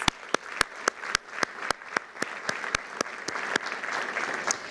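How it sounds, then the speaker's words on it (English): A crowd claps steadily in a moderately sized room, with sharp individual claps standing out over a continuous wash of applause. "Let's give them a quick round of applause."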